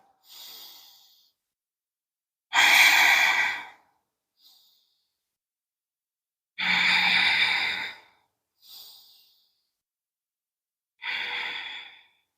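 Slow, deep yoga breathing during a held pose: long loud exhales alternate with softer inhales, a steady rhythm of about three full breaths, close to the microphone.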